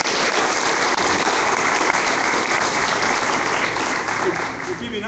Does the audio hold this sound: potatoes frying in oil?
no